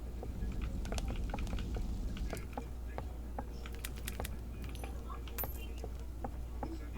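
Keys jangle in a steady run of small, light metallic clinks and rattles, close to the listener, over a low constant hum.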